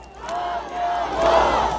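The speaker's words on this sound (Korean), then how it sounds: "서명옥을 연호합니다" A rally crowd at a People Power Party joint campaign event in Gangnam chants candidate Seo Myeong-ok's name in loud, rhythmic unison, a swelling mass of voices that grows stronger toward the end.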